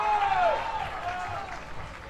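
A beach tennis crowd at a BT 50 final cheers and applauds for a player. The broad, steady roar sits under a commentator talking throughout.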